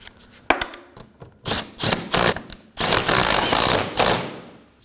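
A ratchet snugs a 10mm bolt on an Acura MDX AC condenser and receiver drier assembly, giving quick clicking strokes, then a longer run of close, rasping turns before it stops.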